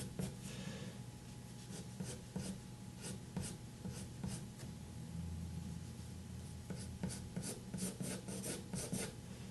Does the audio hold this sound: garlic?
no